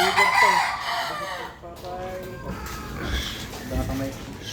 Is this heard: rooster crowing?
yes